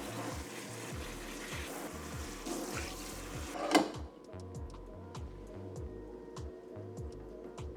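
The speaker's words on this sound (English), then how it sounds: "Now we're just going to go through and water everything." Houseplants being watered from a can, a steady pour of water splashing into soil for a few seconds before stopping, with rhythmic background music throughout.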